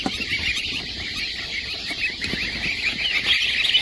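A group of baby goslings at Cackle Hatchery peep constantly in a high, overlapping chorus, with no pause and a slight swell toward the end.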